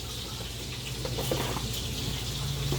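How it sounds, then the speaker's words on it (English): Kitchen tap running steadily into a sink during handwashing, a close, continuous rush of water with shifting splashes as hands move under the stream, no voices. "So I'm going to wash my hands."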